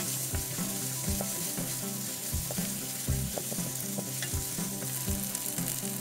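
Pork ribs stir-fry in a hot pan with shallots, sweet peppers and black pepper, a loud steady sizzle broken by rhythmic scraping knocks of the spatula stirring.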